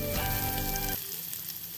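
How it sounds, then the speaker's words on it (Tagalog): Purple onions sizzle in a hot pan, a bright crackling fry that is loud at first with a humming tone underneath, then settles to a quieter hiss after about a second. "ilagay natin ang purple onions"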